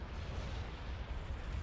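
Heavy siege cannons fire at ships during a Star Wars space battle in a strategy game, a dense rumbling barrage of booming blasts rolling continuously for a moment, loud and close.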